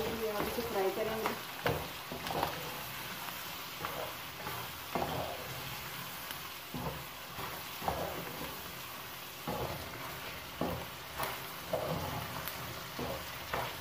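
Macaroni masala fries with capsicum and onion in a hot pan, giving a steady sizzle broken by intermittent scraping stir strokes, close and moderately loud throughout.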